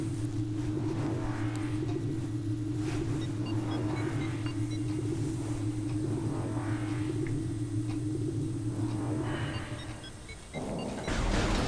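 An elevator in the Metroid Prime video game carries the player up toward Phendrana Drifts, giving off a steady low mechanical drone and hum. The sound shifts abruptly near the end, as if the lift arrives.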